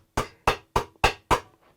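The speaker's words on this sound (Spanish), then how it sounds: "Y ocupamos fierros y en este caso martillo." A hammer shapes a copper piece over iron stakes in a metalworking workshop: five sharp, evenly spaced ringing blows, loud and close, with a faint tap trailing after.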